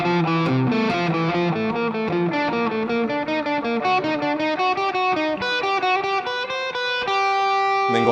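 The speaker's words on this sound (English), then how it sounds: "I'm going to play that across every set of 2 strings, going up and then coming back" Overdriven electric guitar runs a fast alternate-picking lick across each pair of strings, climbing up the neck and then back down in steady rapid notes, loud and unaccompanied with no speech.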